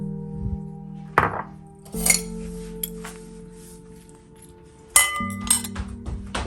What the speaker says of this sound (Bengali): আমি একে একে সব উপকরণ এখন মিশিয়ে নেব